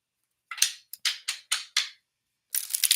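Playing cards shuffled by hand during a tarot-style reading, a quick run of crisp riffling snaps in a short burst, a brief pause, then a longer flurry of fluttering clicks, close and fairly quiet.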